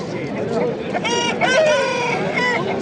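A rooster crows with a strained, drawn-out call amid a busy background of voices and market chatter at a bazaar in Namangan.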